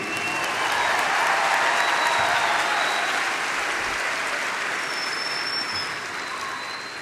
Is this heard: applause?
yes